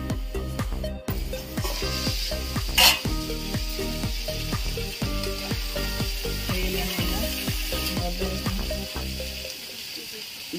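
Onion and capsicum fry in a pan for a chilli paneer dish, with a steady loud sizzle and hiss throughout, broken by repeated rhythmic scraping and stirring knocks from a utensil.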